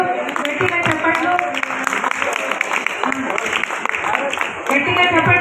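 Loud, continuous clapping from a crowd at a felicitation ceremony during a school class reunion, with voices and shouts mixed over the steady applause.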